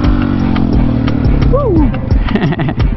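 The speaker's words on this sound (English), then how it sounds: "Watch me do a wheelie, guys." A KTM 701 motorcycle engine revs hard through a wheelie, a loud, rough mid-pitched roar that rises and falls, with a person whooping and talking over it.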